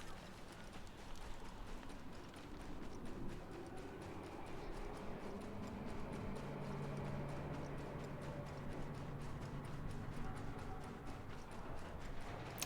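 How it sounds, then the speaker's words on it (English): Quiet footsteps in Dungeons and Dragons: Dark Alliance tap out a steady, rapid, regular rhythm, soft and close, continuing evenly over a low game ambience with faint tonal hums. "There are footstep noises"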